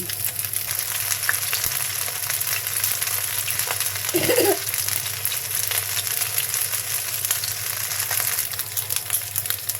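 Panta bhat fritters sizzle steadily in hot oil, a continuous crackling fry with a brief stir or clatter midway, close and even with no talking.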